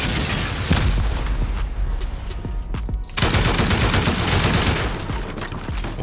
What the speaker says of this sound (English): Let's try to send off these 15 rockets.